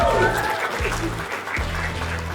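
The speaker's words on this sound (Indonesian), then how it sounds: "Aplaus dulu dong." An audience claps at a university faculty event, a dense, steady burst of applause lasting a couple of seconds, fairly close, with a voice faintly mixed in.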